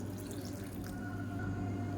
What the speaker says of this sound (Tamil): இப்போ இதில் நல்லா ஒரு மூணு டம்ளர் அளவுக்கு தண்ணி சேர்த்துக்கலாம்